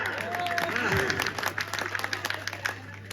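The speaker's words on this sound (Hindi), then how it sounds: "तालियां।" Audience applause at a Hindi humorous poetry recital in Barabanki, with a dense patter of clapping that fades after the first second. A voice is briefly heard over it near the start, and a steady electrical hum runs underneath.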